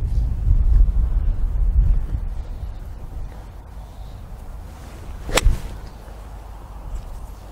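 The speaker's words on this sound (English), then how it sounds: "that wind is strong" Strong wind buffets a microphone with steady low rumble and gusts, plus one sharp brief crack partway through; no voices.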